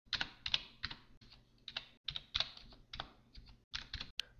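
Keys on a computer keyboard clatter in short, uneven bursts as an IP address is typed, close and fairly quiet, with clustered taps separated by brief pauses.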